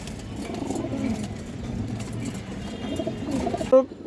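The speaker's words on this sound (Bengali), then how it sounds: "পাল্লা করা একটা কালো গলা নর কবুতর, কাজলা গিয়ার।" A black-necked male pigeon of a fancy breed coos softly and intermittently near the microphone, with steady background rumble and a sharp bird call near the end.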